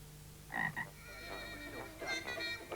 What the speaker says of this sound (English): Goliath bullfrogs, which consume 20 or more mice each day